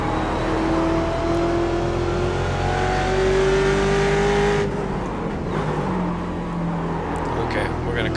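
A Ford Mustang race car engine roars loudly in iRacing at Spa, holding a steady high drone with shifting pitch before easing off partway through as the car brakes and gets back on the throttle.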